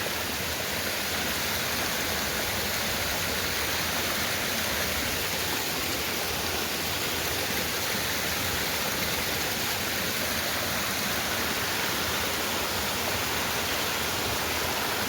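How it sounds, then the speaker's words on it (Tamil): Steady, dense rushing of a waterfall in Balangoda, unbroken and fairly loud throughout, with no voices. "மேலே ஃபுல்லாக நீர்வீழ்ச்சி."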